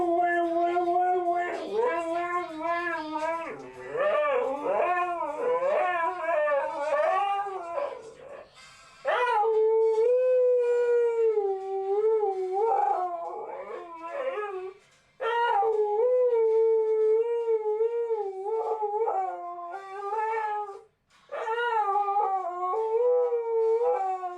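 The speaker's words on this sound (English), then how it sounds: "Ever since he's a puppy, he sings to the Family Guy opening theme song." A dog howls and sings along to the Family Guy opening theme, with long wavering howls rising and falling in sustained phrases over about twenty seconds. The howls are close and loud, broken by a few short pauses.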